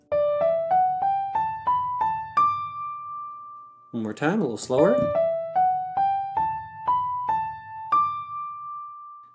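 A clear piano-like tone plays an ear-test melody that climbs as a scale from low do, note by note, to a held top note. A voice talks briefly in the middle, and then the same rising line is played again a little slower.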